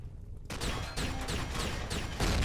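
Defensive turrets in Empyrion Galactic Survival fire a rapid burst of repeated gunshots, several sharp blasts in quick succession close and loud, without talk.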